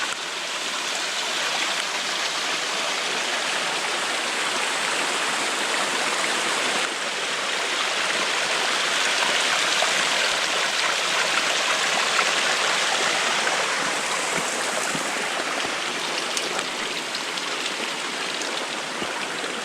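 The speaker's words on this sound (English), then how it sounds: "Oh, these water sources are beautiful today." Steady, close rush of a flowing stream beside a hiking trail, a continuous broadband wash of water that holds an even level for the whole stretch with no voices.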